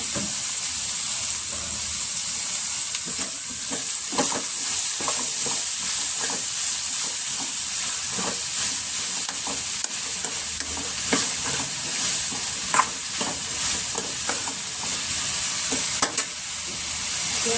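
Tomatoes frying in a pan for a pumpkin palya give a continuous close hiss and sizzle, broken by regular scraping taps as a spoon stirs them.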